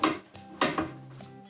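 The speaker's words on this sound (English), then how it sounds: "gently slide this right back into the pan so it can finish cooking on the bottom side." A partly cooked Spanish potato-and-egg tortilla slid back into a frying pan, giving a few close scraping thuds and soft clatters of the pan within about a second and a half.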